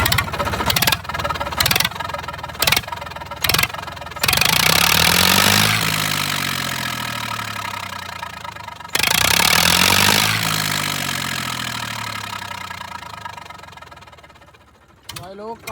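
A tractor with its silencer removed rumbles loud and close without a muffler, first in short bursts and then in long sustained roars that slowly fade, while someone talks over it.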